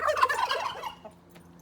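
Several chickens cluck and squawk close by in a short, busy burst of overlapping calls that fades toward quieter, sparse clucks near the end.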